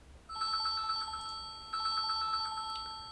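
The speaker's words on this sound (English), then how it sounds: "I'm getting phone calls in every video now." A telephone rings in two bursts of rapid, trilling electronic tones, clear and fairly near, with no talking.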